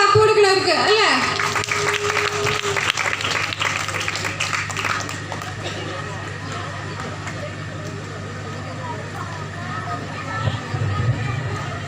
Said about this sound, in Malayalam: അപ്പൊ നല്ല ക്ലാപ്പ് കൊടുക്കണവർക്ക് അല്ലേ?